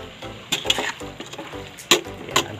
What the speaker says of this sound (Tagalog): Haluin lamang po natin. High heat na po tayo para mabilis